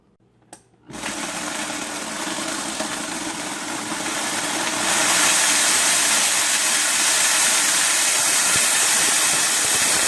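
A click, then a grain mill motor starts up grinding grain for tsampa with a steady whirring grind that grows louder and harsher about halfway through and keeps running without pause.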